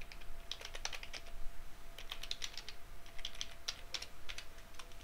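Keys on a computer keyboard tapped in quick, irregular bursts while a password is entered, crisp and close, with no talking.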